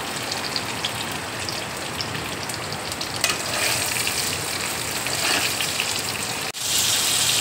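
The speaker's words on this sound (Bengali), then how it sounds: "পটলটা ভাজা হয়ে গেছে।" Pointed gourd, salted lightly, fries in oil with a dense, loud, continuous crackling sizzle close by, steady throughout with a brief dip near the end; no one talks.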